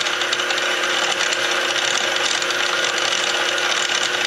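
A speed-controlled miter saw runs steadily at its lowest setting, a continuous motor whir with a faint tonal hum and no cutting, heard alone at moderate level.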